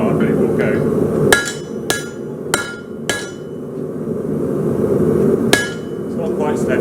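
Sharp metallic hammer strikes on hot metal, about six hard blows spaced unevenly, ringing close over a steady background roar, likely a forge.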